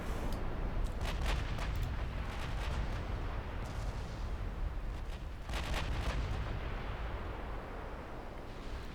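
Heavy naval guns from a video game warship firing on an enemy battleship, booming salvos with sharp cracks that come in clusters over steady low rumble, loud and close.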